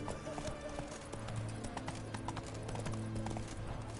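Hooves of Roach, the horse in The Witcher 3 video game, clip-clop in a quick, even rhythm at moderate distance, fairly soft beneath faint game ambience.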